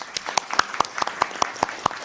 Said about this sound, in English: let us give a round of applause to our panelists